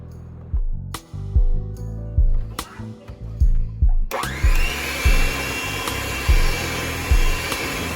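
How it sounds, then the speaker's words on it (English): A kitchen blender whirs in short pulses as it mixes butter and heavy cream for strawberry shortcake, then settles into a steady, louder grinding run for the last half. "And then we're going to add half a cup of the heavy cream and blend it up."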